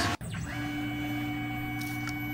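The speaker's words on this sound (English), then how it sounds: "You see here I'm just spotting a few holes." CNC mill spotting holes for M4 screws in a shop, a steady machine hum with a faint high whine and a sharp knock at the start, plus brief hissy bursts near the end.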